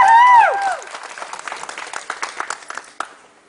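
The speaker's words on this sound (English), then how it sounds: "That should get a round of applause." Audience at a SeaWorld Orlando announcement breaking into a short round of scattered clapping that fades out over a few seconds, following a voice at the start.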